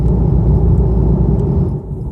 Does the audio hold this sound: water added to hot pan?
no